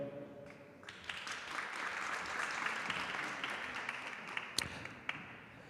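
An audience at a panel on the judiciary and regulatory agencies applauds steadily for several seconds, a dense wash of clapping that holds level before fading out.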